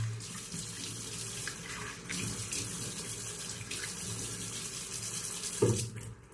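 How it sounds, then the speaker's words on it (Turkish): Cold water runs steadily from a bathroom tap into a sink while someone washes their face after a shave, with splashes and a brief louder gush near the end, close and continuous. "Yüzümü soğuk suyla yıkıyorum."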